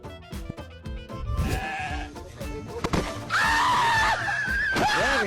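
A male goat bleats loudly with drawn-out, wavering cries amid thumps and scuffling noises, close and strained in a chaotic scene.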